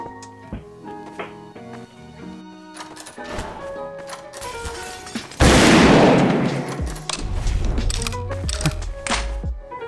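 Gunfire in Garry's Mod DarkRP: scattered sharp shots early on, then a dense, loud burst of firing midway that keeps crackling to the end.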